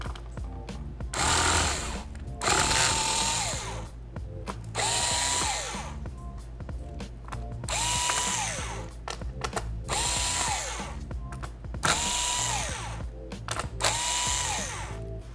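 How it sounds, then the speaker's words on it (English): Power screwdriver removing the screws that hold the motherboard in an Acer Chromebook C722, close and loud, with several separate whirring bursts of a few seconds each and short pauses between them. "Then you want to take the screws out that are holding the motherboard in."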